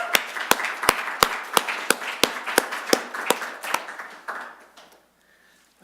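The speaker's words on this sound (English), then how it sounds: "So I would like to start by asking for a round of applause for Sean Gilstow." Slow applause at a lecture, sparse individual claps at an even rhythm rather than a full ovation, fairly close, then tapering off into near silence.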